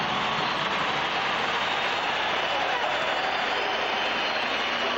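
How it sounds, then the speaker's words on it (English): A packed futsal crowd at the Domo stadium applauds during the 2000 FIFA Futsal World Cup, Portugal vs Brazil. The clapping is a dense, steady roar of sound throughout, with a commentator's voice faintly underneath. "Applause ringing out around the Domo stadium"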